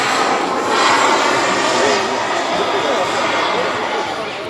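A 1/9 scale model Rafale jet with a single central turbine engine and Y-split exhaust flies at an air show meeting in Challes, giving a loud, steady turbine roar throughout with voices faintly in the background.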